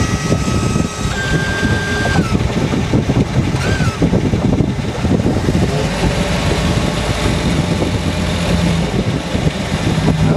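An old boat's inboard engine running with its cover off, a loud, steady mechanical drone with constant rumble and rattle throughout, close and uninterrupted.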